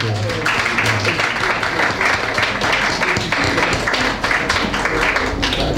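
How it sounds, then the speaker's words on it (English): Steady applause from an audience at a formal constitutional review event in Ghana, a continuous dense patter of many hands clapping with no single voice standing out above it. "Let's give another round of applause."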